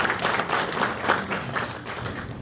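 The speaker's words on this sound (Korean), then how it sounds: "박수 한번 크게 쳐주시죠." A church congregation applauding during a pastor's installation service, a soft, continuous patter of many hands clapping at a distance with no voices.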